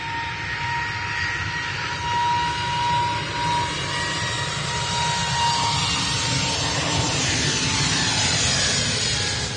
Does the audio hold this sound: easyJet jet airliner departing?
yes